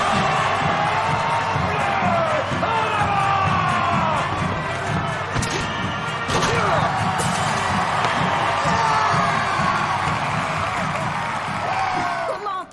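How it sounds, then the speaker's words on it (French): A school crowd cheering and applauding for the new Blue Devils high school mascot, a dense, sustained roar of shouts, whoops and clapping that stays loud throughout. "Un tonnerre d'applaudissements pour accueillir vos démons bleus."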